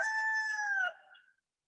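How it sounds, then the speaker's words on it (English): A rooster crows once nearby, one clear drawn-out cock-a-doodle-doo that breaks off and trails away into quiet within about a second and a half. "I'm going to go scare the chickens off."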